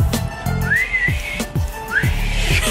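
A person whistles a short, loud, close melody of rising and falling gliding notes, broken by several low thumps.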